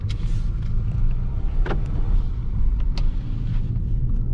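A BMW 2 Series Gran Coupé pulls away in sport mode with a light press of the accelerator, heard from inside as a deep, steady engine rumble with a few faint clicks and no talking.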